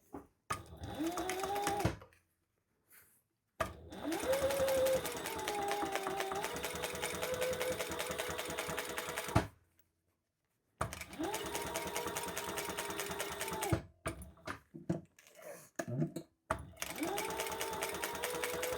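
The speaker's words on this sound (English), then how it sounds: "Now we're going to top stitch there." A sewing machine top stitching a crossbody bag pocket runs in several steady whirring bursts separated by short pauses, close and clear with no talk over it.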